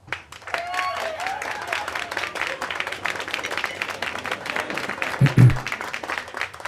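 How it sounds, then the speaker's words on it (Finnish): Applause for a newly named ship's captain, a dense patter of clapping from a gathered crowd that runs steadily through the moment, with a brief louder thump near the end and voices mixed in. "Antakaa aplodit Edmondille,"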